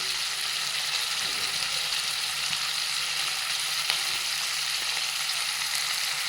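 Green chillies sizzle in hot oil in a pan with a steady, dense frying hiss, a few faint stirring scrapes underneath.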